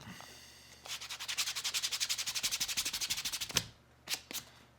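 Leather wallet edges hand sanded to remove burrs, a quick rhythmic run of about twenty close rasping strokes, then a pause and a couple of separate rubs.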